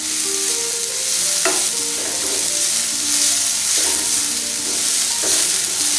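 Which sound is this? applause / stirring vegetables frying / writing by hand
stirring vegetables frying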